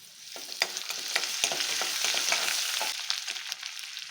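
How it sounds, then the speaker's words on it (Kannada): Grated ginger frying in a hot pan, a loud close sizzle broken by repeated stirring scrapes and crackling bursts, no talk. "ಸ್ವಲ್ಪ ಫ್ರೈ ಮಾಡ್ಕೊಳ್ಳೋಣ. ಮತ್ತು ಹಾಗೆ ಶುಂಠಿ ಕೂಡ ಹಾಕ್ಕೊಳ್ತಾ ಇದ್ದೀನಿ."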